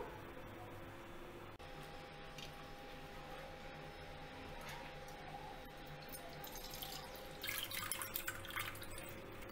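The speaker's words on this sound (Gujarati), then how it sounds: "આપણે આ પાણીને નિતારી લઈશું ફેંકી નથી દેવાનું આ પાણીને આપણે એક વાસણમાં કાઢી લઈશું" Soaking water drained off lentils into a vessel while preparing vedmi (puran poli), a soft trickle and splash that grows louder and more splashy toward the end.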